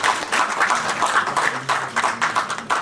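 Steady applause fills a large diaspora rally in March 2016, a dense, continuous wash of many hands clapping with no pauses.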